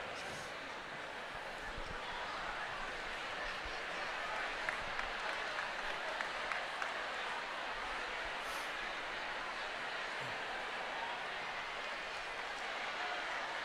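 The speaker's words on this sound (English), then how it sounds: "Give yourselves a round of applause" An audience at a school district opening-day gathering applauds, a faint, steady wall of many hands clapping from across a large room, continuing without pause for over ten seconds.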